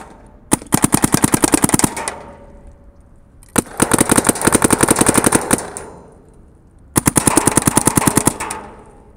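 Three rapid bursts of paintball marker shots from a DLX Luxe X, each a quick rattling string of sharp pops, loud and close, separated by short pauses.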